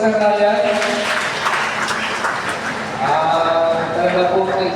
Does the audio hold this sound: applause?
yes